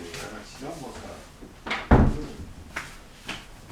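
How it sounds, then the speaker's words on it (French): A house door swings shut with one solid thump midway, followed by a couple of lighter knocks, while someone talks before and after. "je vais fermer la porte"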